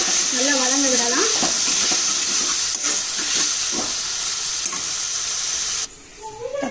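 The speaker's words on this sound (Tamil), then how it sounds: "தக்காளி வதங்கிக்கிட்டு இருக்குது." Tomatoes sautéing in a pan with chili powder and turmeric, a steady loud sizzle and hiss of frying throughout, with a few brief stirring clatters and a voice speaking at the start and near the end.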